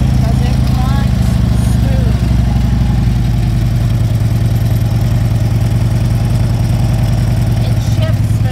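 A used 2010 Harley-Davidson Road King Classic with high mileage idles steadily, a loud, even low rumble that runs unbroken throughout while someone talks over it.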